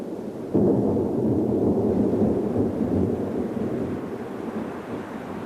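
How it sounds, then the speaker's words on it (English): A tropical thunderstorm over an African river catchment sends out a deep, heavy roll of thunder that swells suddenly and then rumbles on at length, loud and low beneath a faint wash of rain, with no voices. "A tropical thunderstorm in the catchment area pours millions of liters of water into the river."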